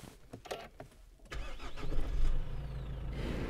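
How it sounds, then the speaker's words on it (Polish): A Nissan Navara pickup fires up with a push-button keyless ignition: a short clicking crank settles into a steady mid-pitched engine idle that grows louder and holds, heard close from inside the cab. "Bezkluczykowy zapłon."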